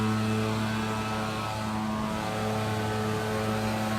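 Gas-powered leaf blower running on a beach-side street, a loud, steady droning engine whine with tonal hum holding constant throughout, close by.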